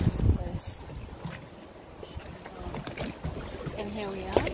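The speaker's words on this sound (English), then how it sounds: "we're off on a sea boat ride" Boat ride on the open Red Sea near Umluj, Saudi Arabia: rushing wind and engine rumble with splashing, and voices faintly talking underneath.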